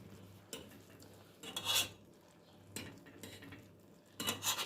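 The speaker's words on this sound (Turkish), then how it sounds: "Köpüklendikçe köpüğünü alıyoruz" A spoon skims foam from apricot jam as it cooks in a pot, making soft scraping and rubbing sounds in short bursts against a faint steady bubbling, quiet and close.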